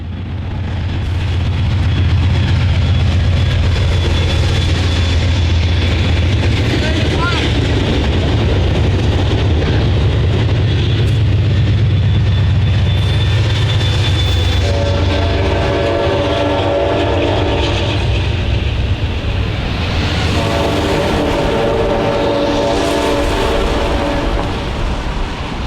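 An Amtrak train rolls past a grade crossing in Blissfield, Michigan, loud and close, with a deep continuous rumble, rhythmic clatter of wheels on rail and sustained horn blasts sounding partway through.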